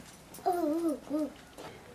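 A young child imitates a dog, giving two short whimpering, yip-like vocal sounds close to the microphone, the first longer and the second brief, then quiet.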